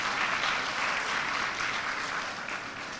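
A crowd at a World Food Day event claps for a woman who has just finished speaking, a dense, even wash of applause that holds steady and fades slightly toward the end, with no talking on top.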